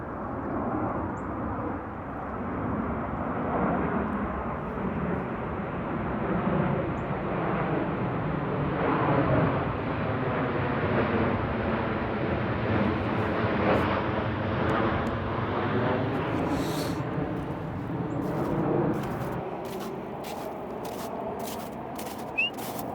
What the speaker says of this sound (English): It's so cool, man, seeing these planes come in.